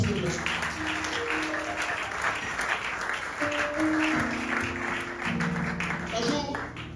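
A church congregation clapping and cheering in worship, dense sustained applause mixed with voices and musical tones, loud and close throughout.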